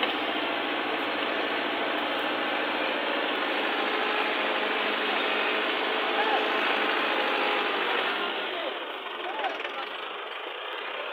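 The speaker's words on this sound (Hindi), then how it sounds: "ये 2 ट्रैक्टर जोर लगाएंगे" Two tractors strain together to pull a heavy load, their engines droning in a loud, steady, broadband roar that holds nearly throughout and eases slightly near the end.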